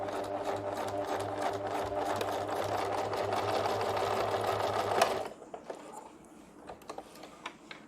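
A sewing machine stitches a zipper onto a fabric pencil pouch, running in a steady fast mechanical whir for about five seconds before stopping, followed by a few faint handling clicks.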